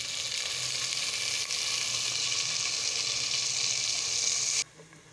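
Chopped garlic and tomatoes frying in a pan give a loud, steady sizzle. The sizzle runs unbroken until it cuts off abruptly near the end.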